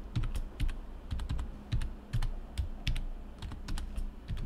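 Keys clacking on a computer keyboard as a user password is typed during a Debian Linux install, several quick bursts of close taps with short pauses, no talk.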